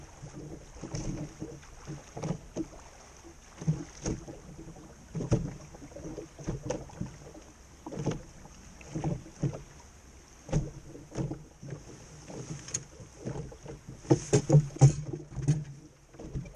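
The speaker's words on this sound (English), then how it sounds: "I row a few hundred meters upwind of the campground" Oars dip and pull in a slow, regular rhythm as a small lug-rigged micro sharpie sailboat is rowed upwind near a lakeside campground, with soft splashes and creaks close by, a faint high tone and light wind noise.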